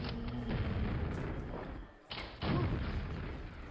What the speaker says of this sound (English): A lot of rocket boosts.